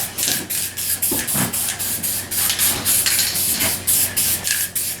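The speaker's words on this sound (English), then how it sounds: "This is automotive paint in a rattle can." A rattle can of automotive paint sprays in short repeated bursts, each a loud hissing blast with brief pauses between, close by.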